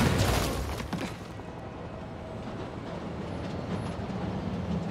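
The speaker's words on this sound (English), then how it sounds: "Train's are stopping." A train in the game Marvel's Spider-Man: Miles Morales rumbles and hisses as it slows, a loud burst at first settling into a steady, broad mechanical roar.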